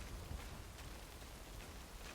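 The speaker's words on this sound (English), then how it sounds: "Honestly, just going through the rain." Steady rain falling in a video game while a character trudges through mud, a soft, even wash of broadband hiss with faint scattered patters, low and continuous with no voices.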